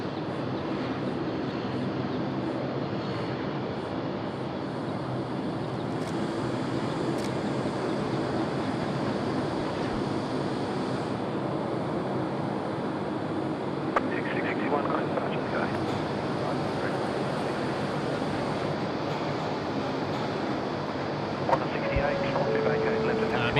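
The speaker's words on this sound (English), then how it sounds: "We've got an A330 on approach." An Airbus A330 jet on approach at Sydney Airport produces a broad, steady roar that holds throughout, heard from a distance with faint voices underneath.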